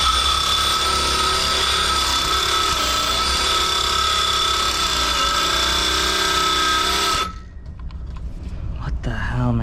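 A cordless power drill whirs loud and close on a job repairing a leaking water pipe on a York four-pipe fan coil unit. It runs steadily, then cuts out abruptly as the battery dies, leaving quieter room noise.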